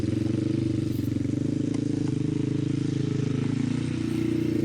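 An ATV quad engine runs steadily during a wheelie, a loud, close, pulsing drone with a constant throb and no clear revving.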